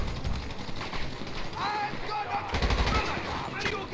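Rapid automatic gunfire rattles in the video game GTA V, repeated bursts of close shots under a loud background, with some voices talking in between.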